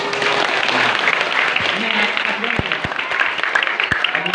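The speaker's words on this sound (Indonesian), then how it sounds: "Tepuk tangan dulu." Students applauding at a school OSIS election campaign event, continuous crowd clapping with a few louder sharp claps and faint voices beneath.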